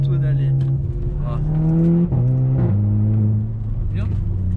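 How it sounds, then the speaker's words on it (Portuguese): A car with a six-speed S-tronic/DSG DQ250 gearbox drives on rough, sandpaper-like asphalt with traction control on. The loud, close engine note holds, then dips and wavers as the power cuts back. "Carro controle de tração ligado, começa a pipocar tudo ali."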